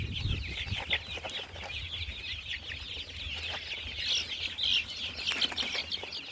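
Desi Gavrani Aseel parent-stock chickens cluck and chirp nearby in a tree, a busy, overlapping chatter of bird calls over low background noise.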